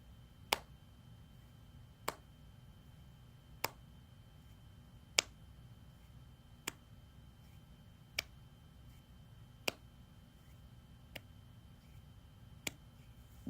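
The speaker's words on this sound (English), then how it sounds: "I'll do that soft counting to a count of 10 with the clapping noise as you do that." Soft single claps or snaps recur at an even pace, about one every second and a half, ten in all, each crisp and isolated against a quiet hum during a guided yoga nidra relaxation session.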